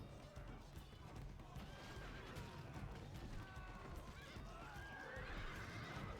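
Horses in the video game Rome: Total War neigh and whinny amid a battle, with hoofbeats clip-clopping under a dense, constant rumble of fighting and a voice talking over it.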